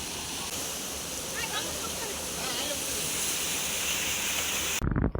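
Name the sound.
garden waterfall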